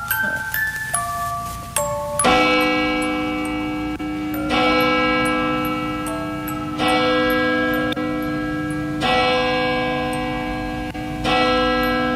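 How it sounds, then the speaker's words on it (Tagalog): A bell sound effect in a radio drama rings in clear, resonant strikes, several tolls spaced a couple of seconds apart, each ringing out and decaying before the next, after a few lighter chimes at the start. "tumunog ang kampana"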